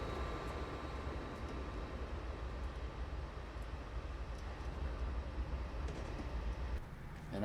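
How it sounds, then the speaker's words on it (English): A train rolls along the track in the Train Simulator 2021 video game, a steady, dense rumble with a continuous hiss that holds at an even level throughout, with no voices over it. "that train will go all the way to that point, and it'll stop"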